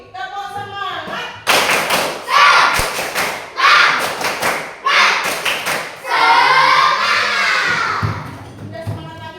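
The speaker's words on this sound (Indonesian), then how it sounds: "Sekali lagi, tepuk semangat." A class of schoolchildren claps together in a steady rhythmic pattern, bursts of sharp claps repeating in sets, with children's voices shouting along.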